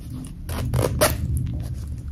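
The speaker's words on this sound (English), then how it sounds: "Zipper up top." A zipper on a cotton-feel handbag being pulled, giving a few short raspy zips close up, with soft handling rustles between them.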